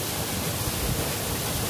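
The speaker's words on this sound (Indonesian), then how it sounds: "Saya berada tepat di sisi bawah air terjun." The Yeh Pucuk waterfall near Bantas, Tabanan, Bali, heard from right at its base: a dense, constant roar of falling water, loud and unbroken throughout.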